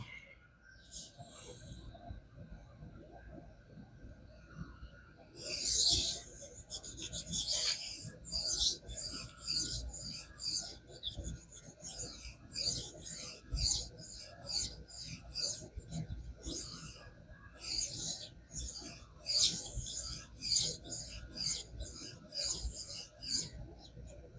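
Knives are drawn across King whetstones in repeated rhythmic rasping strokes, close and bright, settling into a steady back-and-forth after a brief quiet start.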